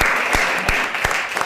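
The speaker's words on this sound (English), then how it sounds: "a round of applause for her" A small audience at an anthology book reading claps briefly, a short burst of applause with a few distinct hand claps.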